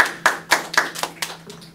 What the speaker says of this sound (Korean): 네, 박수 한번 주세요